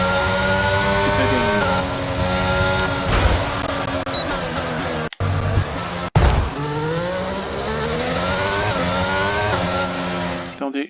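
Formula 1 car in F1 22 on the Monaco street circuit, its engine screaming loud and up close as it climbs through gears with repeated rising whines, briefly cutting out midway before revving again.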